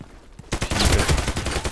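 Gunfire from an SA-58 rifle in the online shooter Contract Wars: after a quiet start, a loud, dense burst of rapid shots and impacts fills the rest of the moment, crowded and continuous rather than a single clean report.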